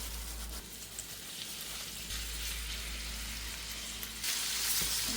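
Garam masala spices sizzle and are stirred in a pan for a reduced-fat butter chicken, a steady close frying hiss with no talk that swells louder near the end.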